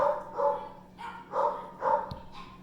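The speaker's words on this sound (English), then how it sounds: "I can't even think straight because of the dogs." Dogs bark nearby in a steady, evenly spaced series of loud barks, about five in under three seconds, against a faint background hiss.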